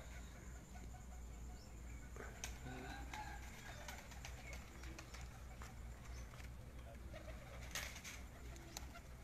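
Soft pigeon coos over a constant low hum on a rooftop pigeon-flying session in Sheikhupura, with a few sharp flutters and scattered chirps of other birds.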